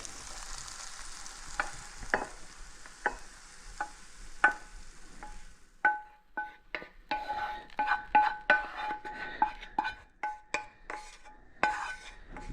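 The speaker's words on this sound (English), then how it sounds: "That sound of the peppers cooking in the pan." Peppers saute in a pan with a soft hiss. A spoon or spatula clinks sharply against the pan again and again, in an uneven rhythm, and the strikes grow busier toward the end.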